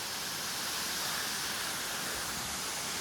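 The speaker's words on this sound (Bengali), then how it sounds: "ওই উপর থেকে পড়ছে, আর কি সুন্দরভাবে জলটা পড়ছে দেখুন" Kaijoda waterfall in Keonjhar, Odisha, roars as a dense, unbroken wash of falling water, loud and even throughout, with no voices.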